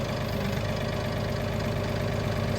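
A farm tractor engine idles steadily and loudly nearby, with a rough, even low rumble and no speech.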